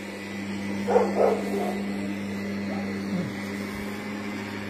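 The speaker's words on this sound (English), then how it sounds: "A puppy." Two quick yaps from a puppy nearby at a campground, then a softer yelp, over a steady low electrical hum.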